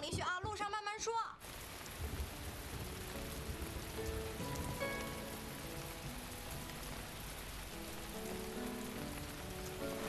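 Steady rain pours down outdoors, a dense, even hiss lasting the whole stretch, with a brief voice at the very start and faint tonal sounds underneath.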